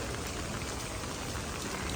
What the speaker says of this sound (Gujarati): બહુ બધો વરસાદ આવી ગયો.